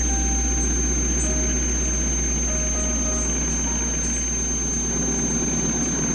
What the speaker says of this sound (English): the Spirit of St. Louis began to roll down the muddy runway